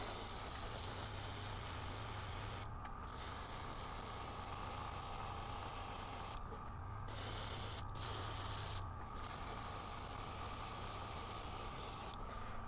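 An airbrush sprays paint onto a 3D-printed fishing swimbait lure, a steady close hiss that stops in a few short pauses between passes, with no talking.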